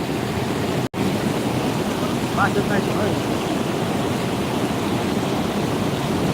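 The flooded Chandani river at Sirsav rushes past in a steady, dense roar of swollen water that fills the whole stretch, broken only by a brief dropout near the start, with a faint voice barely present.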